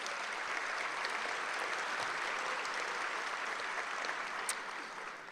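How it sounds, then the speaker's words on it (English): Steady, dense applause from an audience at a Teacher of the Year awards ceremony, sustained and even throughout with no voices standing out. "give one more round of applause for both groups"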